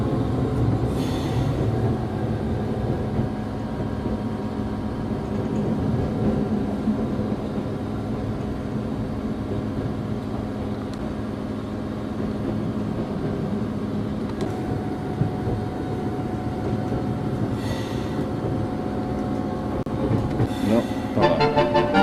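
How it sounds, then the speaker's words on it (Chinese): A passenger train rolls into a railway station on the line from Avallon to Autun in France, a steady low rumble of wheels and carriages with occasional brief hisses and squeals near the end. "进入火车站"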